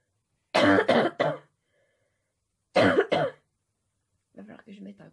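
A person coughs in two close, loud bursts of three harsh hacks each, followed by a softer, shorter throat-clearing cough, with silence in between.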